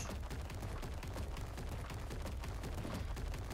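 Rapid overlapping gunfire and booms from ARK Survival Evolved, a dense, continuous barrage of shots that stays loud for the whole stretch with no gaps or talk.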